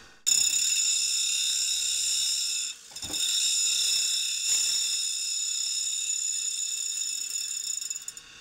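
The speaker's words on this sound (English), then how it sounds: "we're going to bring the two wheels in contact. Then we're going to feed very slowly, and we're just going to go back and forth" Two grinding wheels meet on a Cuttermaster Professional as one wheel is shaped to an inside cone, a loud, steady high whine that dips briefly around three seconds, then resumes and runs continuously with no speech.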